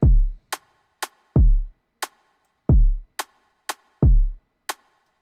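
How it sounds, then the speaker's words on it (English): Sharp, crisp rim shots crack in a steady beat pattern alongside deep booming kick drum hits, with no talking. "Then next we got a rim shot, which hits like this."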